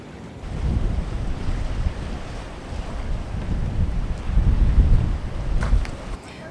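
Strong wind at Sarakiniko Beach on Milos, roaring and buffeting the microphone as waves wash in beneath it, loud and continuous throughout with no talk.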